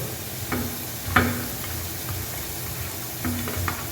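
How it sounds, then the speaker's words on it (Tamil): French fries fry in hot oil, a steady close sizzle and bubbling with a few brief clinks and stirring sounds, and no talking. "நல்லா சூடாகிடுச்சு பாருங்கள் ஃப்ரை பண்ண போடுறேன் உள்ளே போட்டாச்சு"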